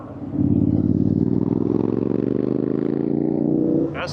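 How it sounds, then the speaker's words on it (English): A scooter engine revs steadily and loudly while being ridden on the Samoeng Loop mountain road in Thailand, a sustained close-up motor drone holding for about three and a half seconds before easing off. "That's a pretty good sounding scooter"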